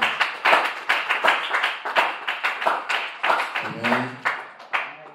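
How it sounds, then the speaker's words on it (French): A church congregation claps for Jesus in a steady, fairly quick rhythm, hands close and clear, with a brief voice rising over the clapping near the end. "Est-ce que tu peux acclamer pour Jésus?"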